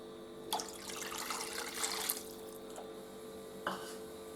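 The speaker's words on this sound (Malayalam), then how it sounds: "2 കപ്പ് വെള്ളം ഇതിനകത്ത് ഞാൻ ഒഴിച്ചു കൊടുക്കുന്നുണ്ട്" Two cups of water poured into a pan to make kozhukkatta dough, a steady close splashing and trickling stream with a few brief louder splashes, no talking.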